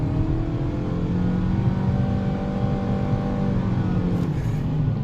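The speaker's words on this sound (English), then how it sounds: "Go ahead and see how it accelerates onto the highway here." A 2021 Mitsubishi Outlander Sport with a CVT transmission accelerates onto a highway, heard from inside as a steady, droning engine hum with smoothly rising pitch and no shift breaks, under road and wind noise.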